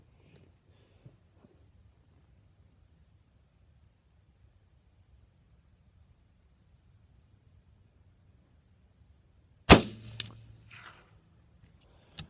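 A single subsonic .243 rifle shot with a 12-grain Trail Boss load, one sharp crack after long near-silence, followed by a brief faint rustle.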